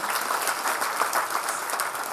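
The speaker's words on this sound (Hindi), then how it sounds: "जोरदार तालियों से अभिनंदन" Loud applause from an audience welcoming a guest at an R. D. Burman Award night. It is a dense, steady roar of many hands clapping, close and even, lasting the whole short stretch without any talk.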